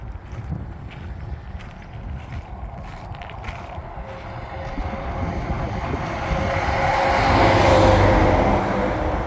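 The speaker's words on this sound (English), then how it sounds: "Ah, there's a lot of traffic going through here." Road traffic rolls through the small town of Magdalena, New Mexico, a low rumbling vehicle passing with heavy wind buffeting the microphone, swelling louder as it draws near over several seconds.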